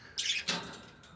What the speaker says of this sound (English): Look at that cute, innocent bird right there.